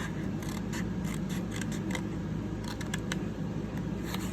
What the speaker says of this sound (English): And then just cut a sliver across.